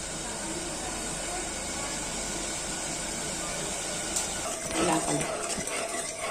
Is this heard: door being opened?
no